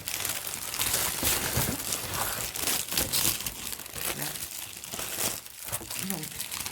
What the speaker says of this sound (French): je voulais enlever le papier pour faire moins de bruit